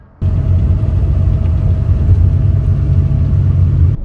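Steady low engine rumble and road noise inside a car driving along a road in Sarawak, Malaysia, constant and fairly loud throughout with no talk.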